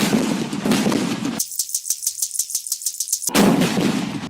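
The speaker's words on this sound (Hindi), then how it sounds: "मैं 21 तोपों की सलामी पेश करता हूँ इस बात पे" A 21-gun cannon salute rendered as a sound effect: a quick run of a dozen or so sharp, booming shots in a tight, even rhythm, framed by dense noisy stretches before and after.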